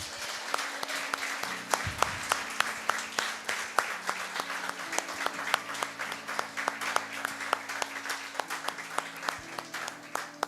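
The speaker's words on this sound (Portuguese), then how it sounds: "Você pode aplaudir ao Senhor" A church congregation applauds in steady, dense clapping that runs throughout, with a low sustained tone underneath and a faint voice now and then.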